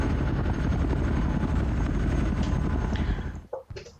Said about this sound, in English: As you move the scout helicopter unit about the map